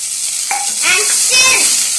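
Raisins dropped into hot ghee in a pan for jaggery kesari, giving a bright close sizzle with crackling pops and a brief clink of utensil as they start to roast.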